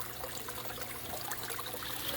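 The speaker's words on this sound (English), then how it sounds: "Having the water flowing over that stick and down is good to see." Water trickles and pours steadily over a stick in a small garden waterfall, a soft continuous splashing flow heard close and alone.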